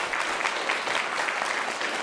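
A live audience at a BC Greens leadership debate claps steadily for three contestants, a dense, even patter of many hands filling the room without pause.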